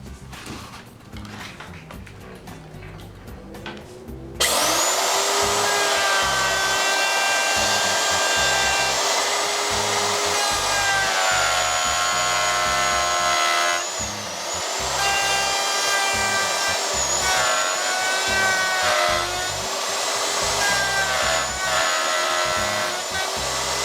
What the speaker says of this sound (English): using a pattern cutting bit on the handheld router, this wheel will follow the pattern and your table will end up perfectly round.